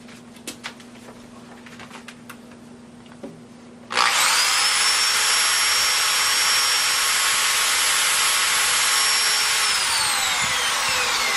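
An electric drill with a brushed universal motor starts up abruptly and runs at a loud, steady high whine, heard alone after a few seconds of faint electrical clicks, its pitch sagging slightly near the end.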